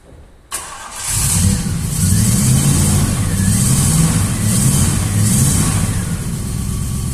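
A classic Triumph Stag car engine cranks and catches after a short silence, then settles into a steady, loud, close idle that continues to the end.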